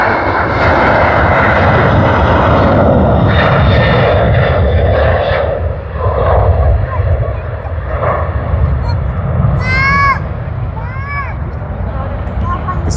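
A passenger airliner departs Sydney Airport on a service to Bangkok, its engines a loud, sustained roar that fills the whole stretch, while a voice talks over the noise and a few brief chirps rise near the end.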